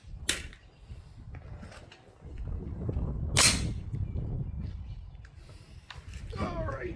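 Two sharp, suppressed 5.56/.223 rifle shots at a floppy target on an outdoor range, the first early and the second midway, each a short crack over a steady low rumble, with a person talking nearby.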